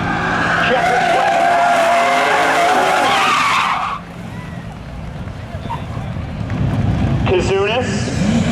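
At a Seekonk Speedway spectator drag race, a car's tires shriek in a long, loud skid as it spins out off turn four, engines roaring, then the noise drops and more tire squeals rise, with an announcer talking over it.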